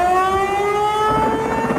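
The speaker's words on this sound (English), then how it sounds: "Tornado warning sirens are sounding the alarms" Tornado warning sirens wail with a steady, loud held tone, a sustained civil defense siren sounding alone.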